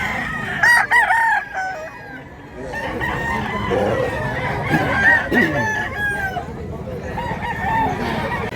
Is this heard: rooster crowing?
yes